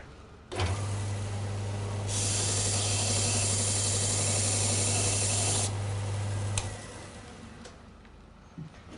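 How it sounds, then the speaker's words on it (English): A powered tool strips the chrome from the tip of a steel golf club shaft: a close motor hum starts abruptly and runs about six seconds, with a harsher abrasive hiss in the middle before it cuts off. "just going to take the chrome off the tip of the shaft"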